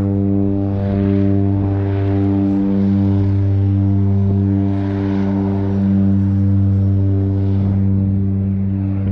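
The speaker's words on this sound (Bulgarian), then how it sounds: "Айде, излита самолет хидроплан оттам." A small tourist seaplane taking off over water near Vancouver, its propeller engine droning steadily with a strong low hum and layered harmonic tones, swelling and easing slightly over several seconds.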